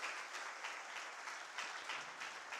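A church congregation claps together, a dense, steady patter of many hands heard at moderate distance, continuing evenly with no voices breaking through.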